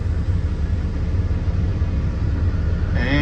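A semi truck slowly rolling away from a trailer after being unhooked, a loud, steady low engine rumble close by, with a rising whine coming in right at the end.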